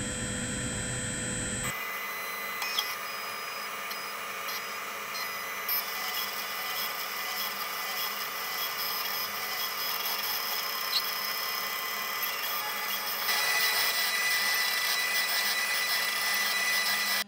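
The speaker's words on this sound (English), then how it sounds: "press the print button to get started and let the printer calibrate" A Printrbot Play 3D printer calibrates and begins printing, its sensor aligning to the four corners: a steady, close mechanical whir with faint stepper-motor tones, running continuously with small shifts and no talking.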